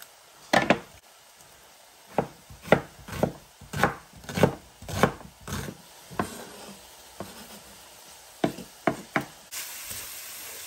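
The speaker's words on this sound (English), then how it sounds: "Just going to do a small chunk of onion" Knife chopping a small chunk of onion on a wooden cutting board: a run of sharp close knocks in uneven rhythm, a pause, then a few final chops, with no talking.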